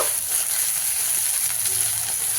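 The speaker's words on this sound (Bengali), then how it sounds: "পেঁয়াজটাকে আমি কিন্তু দিয়ে লাল লাল করে ভেজে নেব" Finely chopped onions fry in oil in a pan, a steady, even sizzle holding at constant loudness for a couple of seconds, close up with no talking.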